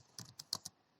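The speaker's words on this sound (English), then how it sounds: "click Shift Enter" Computer keyboard keys pressed in a quick run of four or five crisp clicks within a second, close and quiet, for a Shift Enter keystroke.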